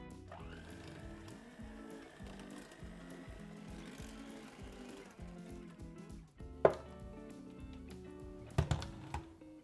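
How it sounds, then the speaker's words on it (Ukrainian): Electric mixer whipping cold cream cheese with cream and powdered sugar into stiff peaks, a steady close motor whir with rattling beaters that drops out partway, followed by a few loud knocks. "До вершкового сиру додаємо вершки і цукрову пудру. Збиваємо міксером до стійких піків."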